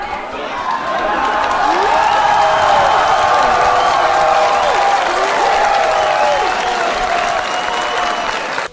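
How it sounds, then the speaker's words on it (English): At a college talk by Ben Shapiro, a large audience roars and applauds, a loud, sustained mix of cheering, clapping and shouting voices that holds for several seconds. "This brought a huge roar to the crowd"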